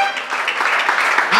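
A church congregation applauds, with dense, loud hand clapping filling the whole moment.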